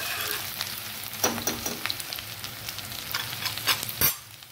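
Garlic and ginger frying in oil for homemade paneer chilli, a steady close sizzle with occasional stirring scrapes and clinks throughout.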